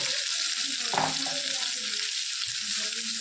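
Spice masala roasting in hot oil over low gas heat, a steady close sizzle and crackle running throughout, with a brief stir near the middle.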